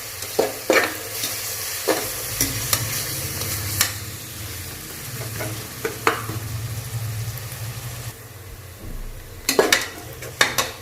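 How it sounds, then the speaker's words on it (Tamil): Onions sauté in a pan for plain biryani, giving a steady close sizzle punctuated by sharp spatula scrapes and metallic clinks against the pan at irregular intervals. "வெங்காயம் நல்லா வதங்கட்டும்."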